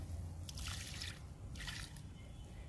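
Liquid fertilizer trickles and splashes onto potted flower plants in two short, soft pours, faint and close over a quiet background with no talking.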